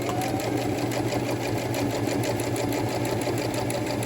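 A sewing machine stitches fabric at a steady pace, its rapid even clatter running without pause, close and fairly loud.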